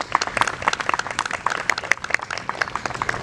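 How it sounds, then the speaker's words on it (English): Applause from a seated audience at a 2019 long-table dinner event in Southern California, steady patter of many hands with a few sharper nearby claps standing out over the whole stretch. "Please give yourselves a round of applause."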